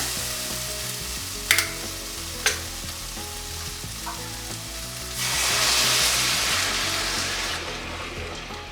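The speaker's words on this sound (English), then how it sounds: "After about 5 minutes of stir frying" Shrimp in coconut milk sizzling and being stir-fried in a hot pan, with a couple of sharp metallic utensil clinks, then louder frying hiss building up.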